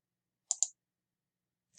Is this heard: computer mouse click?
yes